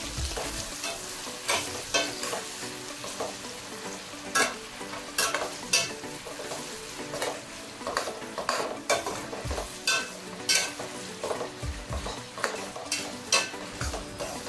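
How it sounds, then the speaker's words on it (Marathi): Garlic, ginger and onion frying in oil and butter in a pan, a steady sizzle broken by repeated sharp scrapes and clinks of a spatula stirring, close and fairly loud, with no voices. "त्याच्यामध्ये जे लसूण आणि अद्रक कटिंग केलेलं होतं ते आधी घालूया आणि नंतर जो कांदा आपण कट केला आहे तो ह्याच्यामध्ये मिक्स करून घेऊया व्यवस्थित"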